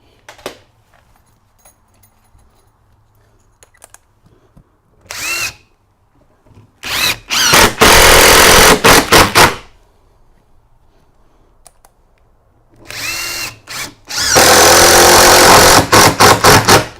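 Power drill driving screws into timber of a KwikStairs staircase flight and winder box: a brief burst near the start, then two long loud whirring runs with short stops between, heard alone without talk.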